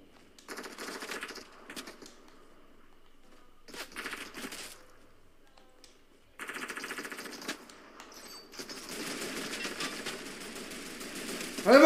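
Fortnite gunfire comes in rapid automatic bursts, short clustered volleys separated by pauses, then a longer sustained stretch of shooting toward the end, moderately loud with no talking over it.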